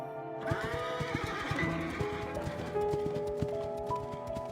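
Horses in the video game Love and Deepspace, in a noisy forest scene, whinny loudly while hooves pound in a fast, continuous gallop.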